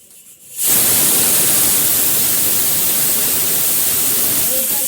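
Tap water gushes hard and steady from an opened faucet while something is washed at a kitchen sink, starting abruptly after a quiet moment and running loud and unbroken to the end.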